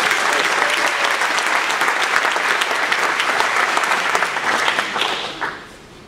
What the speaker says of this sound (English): deserve another round of applause